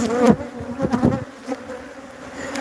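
Honey bees buzz at an opened hive, a dense close-up droning hum with bursts of louder buzzing from individual bees passing near, along with a few soft bumps.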